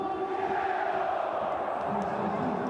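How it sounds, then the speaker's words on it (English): Football crowd in the stadium for Shanghai Shenhua against Vissel Kobe in the AFC Champions League Elite, giving a steady, loud roar of cheering and shouting that fills the whole short stretch without a break. "The crowd are really up for this as well."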